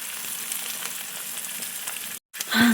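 Sardines sizzling steadily in a hot pan, a close, even crackle that cuts out briefly before a louder burst at the end.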